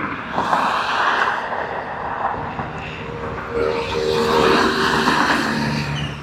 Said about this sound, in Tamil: அப்படியே இங்கே பாருங்கள் வண்டி எவ்வளோ போகுது.